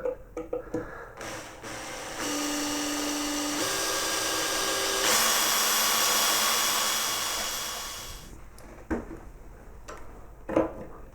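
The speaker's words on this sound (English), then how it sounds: "with my drill I'm going to start working a hole in the middle of this bolt" A power drill boring a small hole into the middle of a steel bolt gives a steady, close whirring whine that holds for several seconds, shifts pitch partway through, then stops, with a few clicks and knocks before and after.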